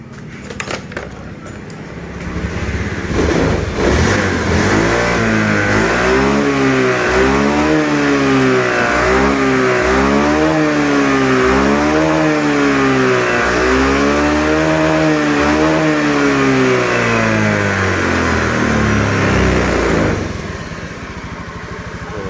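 A Honda Beat scooter engine, after a throttle position sensor fault, revs hard at full throttle, rising and falling in repeated surges over roughly twenty seconds before dropping back to idle, loud and close.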